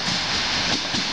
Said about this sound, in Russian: Внимание, поезд! По третьему пути!